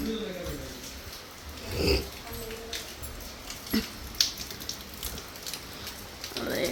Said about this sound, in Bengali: কি বৃষ্টি পড়তেছে,